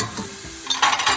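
Ground beef browns in a pan sprayed lightly with Pam, giving a soft steady sizzle that flares into brighter crackles and stirring scrapes over the last half second.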